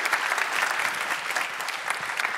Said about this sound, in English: A great applause and welcome to Mr. Thomas Hoffmann.